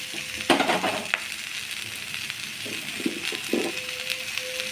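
Sweet potato and pumpkin pieces frying in a pan for a Bengali sukto, a soft continuous sizzle broken by several clinks and scrapes of a spatula stirring close by.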